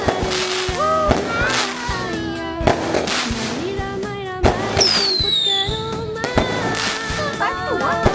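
Fireworks and firecrackers burst repeatedly during Hari Raya celebrations, a run of sharp cracks and booming pops with whistling rising streaks, close and loud, while people chatter and exclaim in the background.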